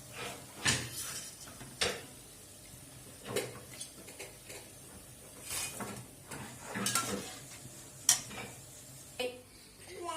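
Small crisp wheat-flour puris fry in oil over a medium gas flame. A soft bubbling runs under repeated clinks and scrapes of a utensil against the pan that come in irregular bursts.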